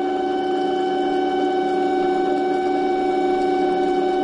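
A small starter generator spins under power from a 12-volt battery pack, giving a steady, even electric motor whine and hum that holds constant from start to finish, close by with no talk.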